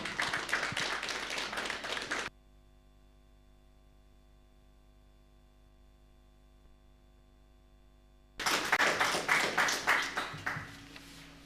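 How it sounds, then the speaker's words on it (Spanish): Congregation clapping at a Quechua prayer service: a burst of applause, then several seconds of near silence with a low electrical hum, then a second, louder round of clapping that tapers off. "vamos a recibir con un fuerte aplauso"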